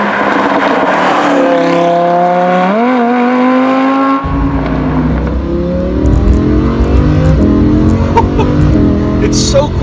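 A 2017 Lamborghini Huracan accelerates hard and loud, its engine rising through the revs, then dropping as it shifts up a gear and climbing again in a continuous pull, with no talk over it.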